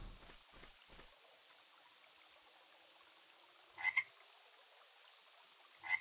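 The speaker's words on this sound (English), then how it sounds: "I hear a frog, but I don't see a frog." Two short frog croaks ring out in the fantasy game Mage's Initiation: Reign of the Elements, spaced about two seconds apart over a quiet ambient bed of trickling water, with a few low thumps at the start.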